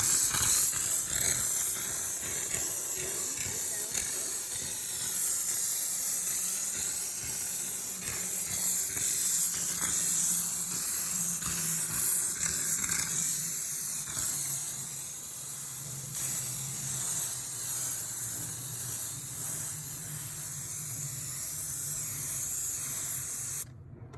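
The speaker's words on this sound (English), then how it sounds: "So the very first thing I'm going to do is steam it." A steam cleaner hisses in a long, steady spray over a dusty car engine being detailed, the close jet of steam shifting slightly in strength as it moves across the surface.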